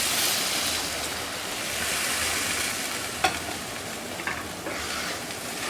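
Singi fish curry with raw banana simmers and sizzles in a pan after water is added, a soft, steady hiss with a couple of faint utensil knocks as it is stirred.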